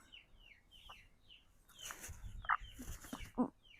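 A hen gives a few soft, sparse clucks near a quiet spot, with faint low chirps early on, then two sharper, louder clucking bursts toward the end.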